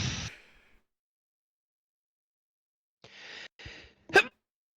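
A single sharp sneeze bursts out at the very start and fades quickly, followed by a long silence and then a few breathy, muffled vocal sounds ending in a brief sharp snort-like burst, during a goblin cave tabletop game session.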